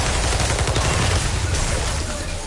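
Rapid SMG gunfire from a PS4 video game, a dense sustained burst of loud automatic shots with no pauses, filling the whole stretch alone.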